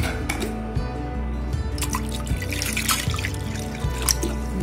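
Water poured into a glass of lime juice sweetened with jaggery, a steady close trickle and splash lasting a few seconds, heard alone over a faint low hum.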